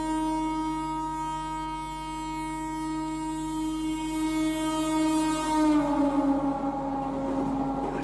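An Indian high-speed EMU train runs past with a heavy rumble and a long, steady horn-like drone that cuts off partway, leaving rolling wheel and carriage noise at close range.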